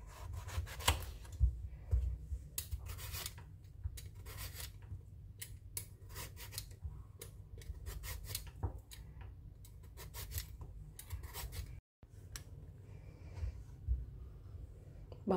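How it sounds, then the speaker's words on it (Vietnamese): A knife peels a very young bottle gourd in a home kitchen, giving repeated close scraping and rasping strokes in an irregular rhythm, with a brief gap near the end. "quả bầu và bây giờ mình sẽ đi gọt bỏ, xét ra những cái miếng vừa ăn để nấu canh."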